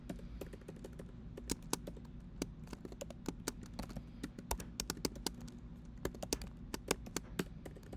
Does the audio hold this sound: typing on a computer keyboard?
yes